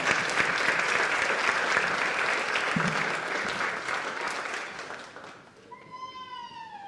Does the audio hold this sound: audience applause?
yes